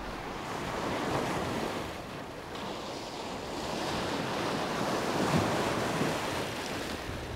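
Waves breaking on a shore in a steady, continuous wash of surf, with wind noise buffeting the microphone and no voices.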